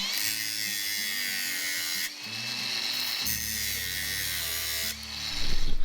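Cutting off the excess threaded ends of rib nuts on a 2017 Toyota Tacoma while fitting high-clearance fender liners: a high, whining power-tool grind with pitch shifts and a few short pauses, nearby and steady.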